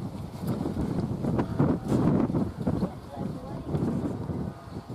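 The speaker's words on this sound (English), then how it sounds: "And the wind just carries on blowing." Wind gusting across an allotment garden plot, a steady rumbling buffet of noise pressing against the microphone, close and fairly loud throughout.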